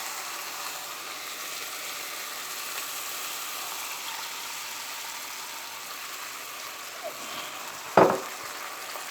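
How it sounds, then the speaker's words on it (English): Beef stir-frying in a pan after cooking wine is added, a steady broad sizzle held near the pan, with a single sharp clatter of a utensil late on and no talking. "I added the cooking wine. I'll mix well, and then I'll add the sauce."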